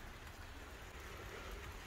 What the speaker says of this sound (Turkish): Baya baya yağmur başladı.